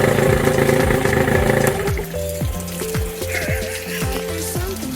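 A small dinghy outboard motor runs steadily after being pull-started, a continuous mechanical hum with rhythmic pulsing throughout, loud and close.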